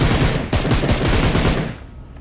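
Rapid automatic gunfire sprays in a dense rattling burst during a Battlegrounds Mobile India match, loud and close, with evenly spaced shots tapering off into quiet after about two seconds.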